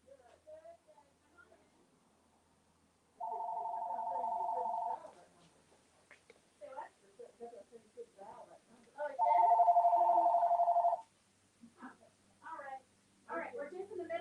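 A telephone rings twice during a live pumpkin-crafting stream, each ring a steady electronic trill about two seconds long. Women chat quietly before and between the rings.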